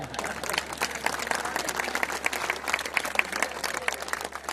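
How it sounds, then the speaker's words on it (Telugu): Loud, dense applause from an audience at a Hindu religious gathering addressed by a speaker, steady clapping filling the whole stretch without a break. "గట్టిగా చప్పట్లు ఎందుకు కొట్టాలో అర్థమైందా?"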